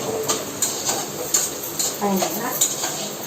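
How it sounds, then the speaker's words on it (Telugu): Noodles with vegetables being mixed in a pan, with rhythmic scraping and clinking of a utensil against metal over a light sizzle, close up, while a person talks. "మంచిగా కలపాలి మంచిగా కలుపుకోవాలి"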